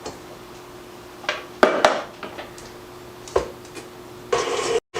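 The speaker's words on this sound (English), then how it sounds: "we're going to mix this till it's well combined" Biscotti batter of olive oil is stirred in a bowl for cranberry pistachio biscotti, with a few close, irregular clinks and scrapes of utensil against the bowl over a quiet room.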